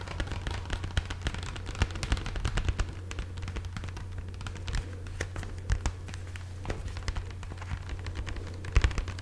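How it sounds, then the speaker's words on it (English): Rapid, irregular tapping clicks continue throughout at close range, with a low steady hum beneath. "Hopefully the tapping sounds nice."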